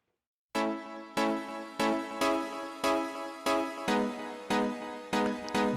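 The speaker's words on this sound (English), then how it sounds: "that's not a synth sound you hear in metal too often." A buzzy, bright synth sound from a live metal song by an unsigned band playing a Hollywood club. It starts abruptly after a brief silence, then pulses in about eight loud, sustained chord swells that keep a steady rhythm.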